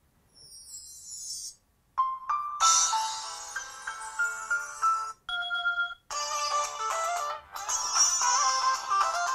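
A Blackview BV6000 smartphone's external speaker at maximum volume plays a bright electronic ringtone melody in several bursts separated by short gaps, close and clear with no talking.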